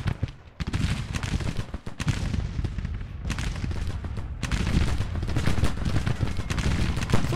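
Artillery bombardment in the Civil War strategy game Grand Tactician, with dense, loud rolling cannon and musket fire, overlapping booms and volleys continuing without pause.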